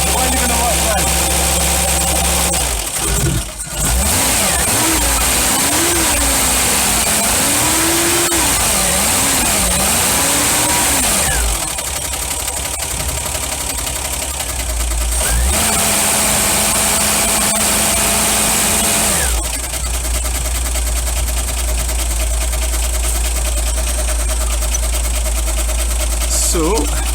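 A Ford Granada 3.0 GL automatic idles after being started for the first time in two months, its choke not working. The engine runs loud and close with a wavering, uneven idle and occasional rises in revs.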